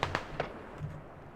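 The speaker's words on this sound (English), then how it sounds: "I just heard an explosion." An explosion in the military shooter Squad, a few quick cracking bursts followed by a fading low rumble, brief and moderately loud.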